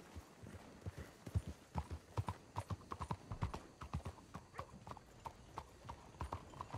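Horse hooves clip-clopping at a steady walking rhythm in Red Dead Redemption 2, close and clear, the even beats running through the whole stretch with no voices heard.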